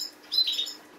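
Small birds in an aviary give a brief, bright burst of chirps at moderate distance, high and thin against near silence, no voices present.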